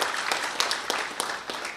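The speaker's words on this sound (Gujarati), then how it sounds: "વર્સેટાઇલ વિધિ માટે પણ જોરદાર તાળીઓ થઈ જાય" Applause from an audience at a community student honours and career guidance event in Navsari, greeting a young female singer after her prayer song; a steady wash of clapping with a few sharper claps standing out, moderately loud.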